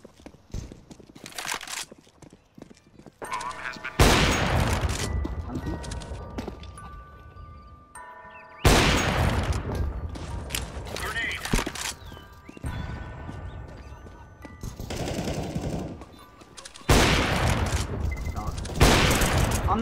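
Bursts of rifle gunfire crackle through a CS:GO match on the Inferno map, loud volleys broken by short quieter gaps across the stretch, with faint game sounds in between.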